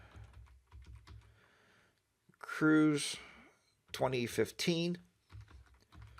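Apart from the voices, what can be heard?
typing album name on computer keyboard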